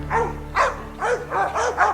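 Hunting dogs baying at cornered hogs during a South Texas hog hunt: about five loud, excited barks in quick succession, close by, with short gaps between them.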